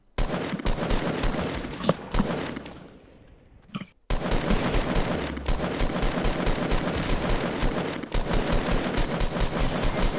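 Rapid automatic gunfire in Fortnite, loud and dense, with bursts of continuous shots, a brief lull near the middle, then sustained firing resuming.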